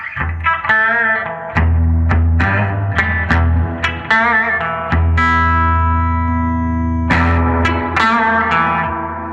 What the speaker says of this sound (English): what we have here is this reverb section, which is my favorite part of the amp